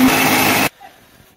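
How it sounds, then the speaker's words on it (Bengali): A kitchen mixer grinder blends boiled flat beans with a loud, dense whirring roar for under a second, then stops abruptly, leaving a quiet room with faint traces of movement. "মিক্সির মধ্যে দিলাম।"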